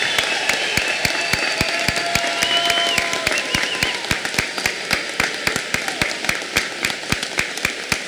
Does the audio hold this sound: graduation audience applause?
yes